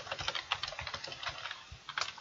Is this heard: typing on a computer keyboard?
yes